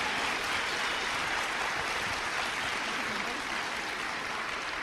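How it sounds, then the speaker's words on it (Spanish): Continuous audience applause at a business seminar, a dense hiss of many hands clapping at steady moderate volume from start to finish, with no speech over it. "Date un aplauso."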